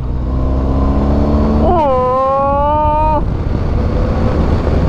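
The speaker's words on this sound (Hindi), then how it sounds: "इनलाइन 4 की आवाज बड़ी मजेदार होती है भाई" Inline-four motorcycle engine on a mountain road trip toward Shinkula in Zanskar, revving up with a rising, sustained tonal whine for about a second and a half, then cutting back, heard close over steady wind and riding noise.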